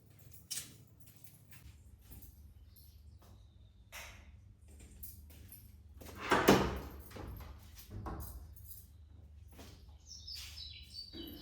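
A kitchen door opens once with a brief, faint thud and rustle midway through a quiet room, while birds chirp softly in the background throughout.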